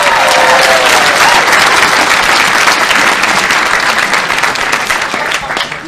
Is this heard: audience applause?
yes